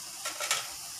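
Fish balls fry in sambal in a pan, giving a steady close hiss of sizzling with a couple of brief louder bursts of crackle partway through, and no talking.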